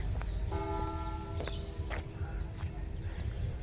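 The clock bell at the New Palace in Kolhapur strikes once and rings on as a sustained tone that slowly fades, faint against low background rumble with a few brief knocks.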